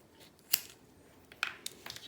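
Small scissors snip the cotton wick ends on a Vandy Vape Mesh V2 RDA coil. There are a few quiet, sharp clicks spaced through a soft hush, heard close up without talk.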